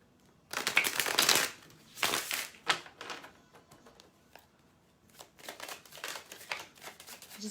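Tarot cards are shuffled by hand in several bursts of crisp riffling and flicking, close and fairly loud, with short pauses between bursts.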